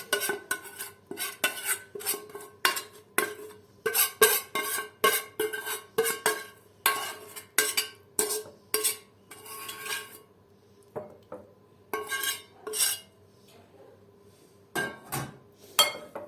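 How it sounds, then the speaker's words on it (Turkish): Spoon scrapes and clinks against a bowl as köfte balls are stirred with tomato paste sauce, rhythmic bursts of knocking and scraping with short pauses, close and fairly loud, no talk. "Önce salçayla Şöyle köftelerimizi karıştırıyoruz."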